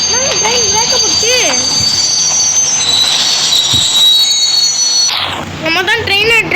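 A train passes in the Indian Bike 3D video game with a loud rumble and high screeching wheel squeal, while a voice talks over it at the start and end.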